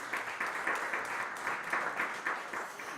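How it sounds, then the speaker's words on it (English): Applause from the audience at a G7 high-level forum on private capital for sustainable infrastructure, a sustained patter of many hands clapping in a large hall, moderate and steady without talk. "This is your round of applause"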